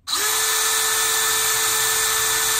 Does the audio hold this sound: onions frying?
no